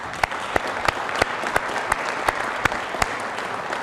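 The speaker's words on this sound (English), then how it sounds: "I think we ought to give all of these guys that were here another round of applause." A city council meeting crowd gives a round of applause for city employees, dense steady clapping close by with sharp individual claps punctuating it, continuing evenly throughout.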